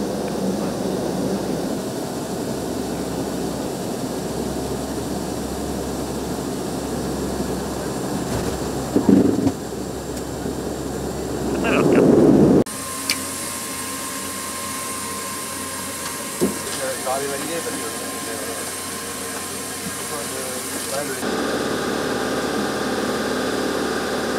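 The engine of a French Air Force Poitou squadron transport plane drones steadily in flight, a loud continuous cabin roar that shifts in tone partway through, with brief knocks and rustles over it.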